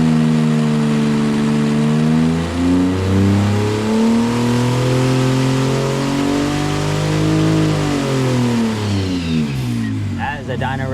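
A Porsche 997.1 Twin Turbo strains on a dyno, its engine holding a loud, sustained high-revving roar that climbs and swells, eases briefly near the end, then flares up again.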